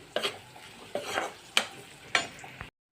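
Fried spices being stirred into a lemon pickle mixture, four soft scraping strokes of a spoon through the wet mixture at a slow, even pace.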